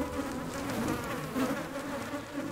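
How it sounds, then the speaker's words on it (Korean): Mosquitoes swarming in the summer tundra make a steady, dense insect whine that runs continuously throughout, fairly close and unbroken, with no voices present. "바로 지긋지긋한 모기 때문이다."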